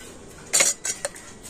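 A spoon mixes flour and oil in a bowl, giving three quick close clinks and scrapes against the bowl in just over a second, with near silence between.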